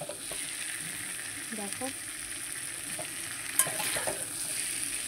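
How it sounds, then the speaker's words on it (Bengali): Water poured into a hot cooking pan sets off a steady, loud sizzle and frying hiss with a few stirring clinks. A brief spoken word is heard in the middle. "চলো এখন আমি এবারে জল ঢেলে দেবো।"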